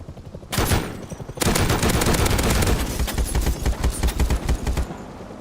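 Rapid gunfire in the video game Rust, a long dense burst of rounds pounding close and loud after a couple of opening shots, then thinning into a looser run of separate shots; no talk.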